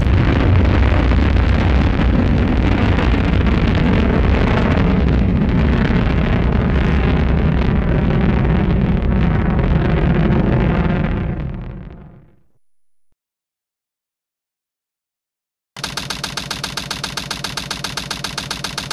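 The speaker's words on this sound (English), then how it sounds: "Primary engine ignition on. Beginning liftoff countdown." Rocket engine firing at ignition and liftoff in Sonic Adventure 2: Battle, a loud, dense roar that holds steady, fades into silence, then gives way to a pulsing mechanical tone.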